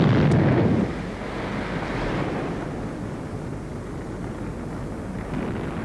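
An explosion in a science-fiction TV drama scene. A loud, close blast at the start fades into a long, steady rumbling roar.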